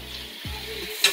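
Pork steaks sizzle steadily in a hot pan as one is flipped over, a broad frying hiss throughout with a low thump partway and a sharper spatter near the end.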